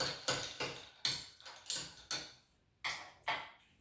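Spoon clinks against a glass while stirring a rum drink with Angostura bitters, lemons and limes, a handful of sharp separate taps spread irregularly across a few seconds, near and fairly faint.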